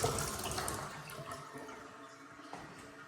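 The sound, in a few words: water running from faucet in new construction home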